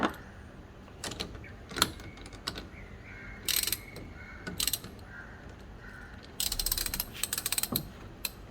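A ratchet tightening a car battery terminal nut, bursts of quick clicking pawl ticks separated by pauses, close and fairly quiet, with a longer run of rapid clicks near the end and no talking.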